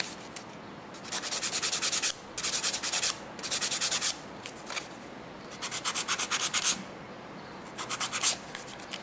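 Gel nails filed along the sides with a nail file, heard as close, dry rasping strokes that come in bursts of quick back-and-forth rubbing with short pauses in between, and no talking.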